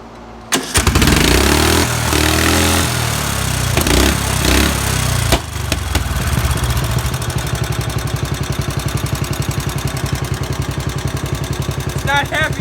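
A Murray lawn mower engine cranks and fires with a loud, rough start, then settles into a steady, fast-thumping run close by, a voice speaking briefly over the opening.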